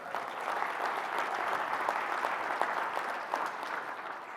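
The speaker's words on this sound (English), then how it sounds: "please give them a round of applause." An audience round of applause at a college convening in a large hall, steady dense clapping that stays fairly distant and even for the whole stretch.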